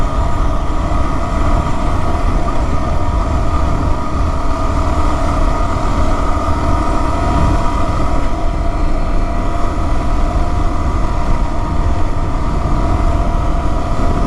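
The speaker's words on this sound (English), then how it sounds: "Cruising along in 4th gear, about 31 mile an hour." An adventure motorcycle cruises in fourth gear at about 31 mph on a Wyoming backcountry discovery route, its engine giving a loud, steady drone with constant wind rush and no speech.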